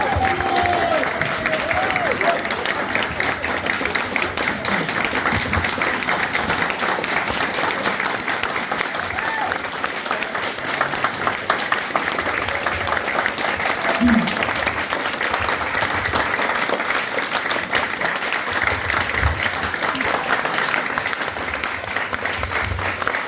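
An audience at an Eagle Scout ceremony gives a long, steady round of applause, a dense sustained clatter of many hands in an indoor room that carries on without a break.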